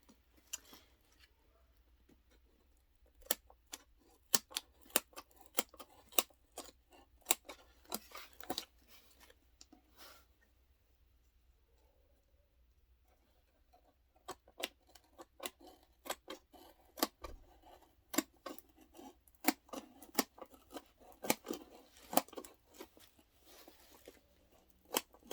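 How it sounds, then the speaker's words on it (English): Scissors cutting through iPad packaging, a long run of sharp, close snips and crunches in irregular bursts with a brief pause midway, fairly quiet overall and with no talking. "I'm already going to need scissors."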